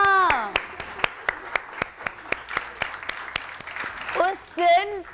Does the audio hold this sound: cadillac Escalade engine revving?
no